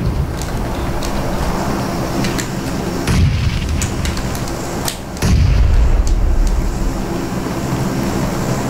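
Grenades explode in the video game PUBG Mobile, two heavy booms a couple of seconds apart over a constant rumbling battle background, the second one louder and closer with a low rolling tail.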